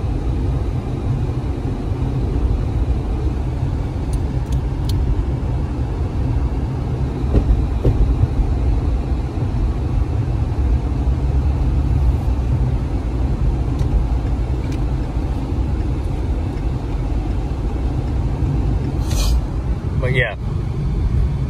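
A high-mileage car cruises at steady speed, heard from inside the cabin as a constant low engine and road rumble. It stays fairly quiet and even, while someone talks over it now and then.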